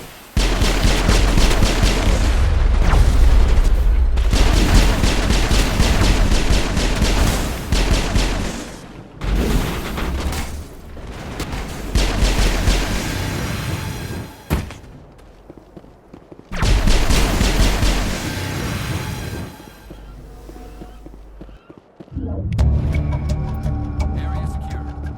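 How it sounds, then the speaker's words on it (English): Mass Effect firefight on Virmire: heavy crossfire of automatic and single shots rattles in long loud bursts with brief lulls and booms, while voices speak over the combat. "Manovai is under coordinated crossfire."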